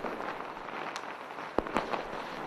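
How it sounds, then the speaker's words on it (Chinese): Firecrackers go off during Spring Festival celebrations in a Chinese village at night: two or three sharp, fairly distant pops stand out over a steady, noisy background. "借着鞭炮声做掩护"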